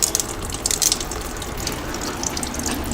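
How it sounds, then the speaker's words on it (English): Hot oil drains from a Ford BTR M74 four-speed automatic transmission, a steady close gush of liquid mixed with faint clicking and metallic rattles from loosened fittings. "We just loosen these off and the oil will start to"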